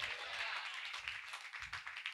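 Congregation at a Sunday church service clapping loudly and steadily, a dense, continuous wash of hand claps filling the room with no pauses.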